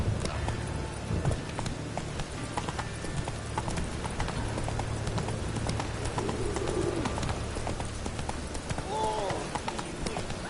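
A horse gallops in The Witcher video game on PS4, rapid rhythmic clip-clop hoofbeats running steadily throughout with bird calls and cooing in the background, and a voice speaks over it.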